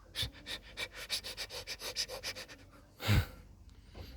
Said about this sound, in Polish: samica siedzi. Strasznie oddycha.